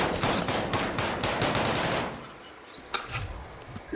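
Rapid automatic weapon fire in an online shooter video game, a dense loud stream of shots for about two seconds that then drops to a quieter background with a few scattered single shots.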